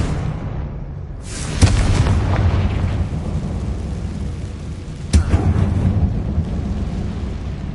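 Two heavy booming blasts from a Confringo spell in a Harry Potter game, each a sharp crack followed by a long rumbling roll, loud and close over a steady low background.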